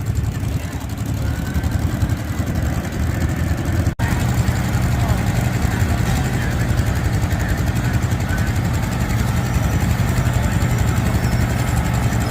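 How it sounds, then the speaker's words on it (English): A small garden tractor engine pulling a mini sled at an antique tractor show idles and chugs steadily throughout, loud and close, with a brief dropout near the start and faint voices in the background. "They've got their little garden tractors out here with the kids."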